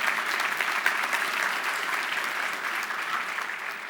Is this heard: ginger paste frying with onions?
no